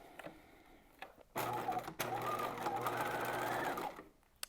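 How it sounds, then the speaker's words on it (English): A sewing machine stitches the lower edge of a bodice band in one steady, close whirring run of about two and a half seconds. Brief handling noises come before and after it. "we're going to stitch this lower edge"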